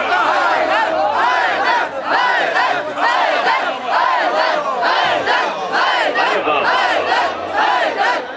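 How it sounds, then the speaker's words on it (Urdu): A large crowd chants religious slogans in loud, rhythmic bursts at a devotional poetry gathering, voices swelling together in repeated waves, with no single speaker standing out. "نعرے"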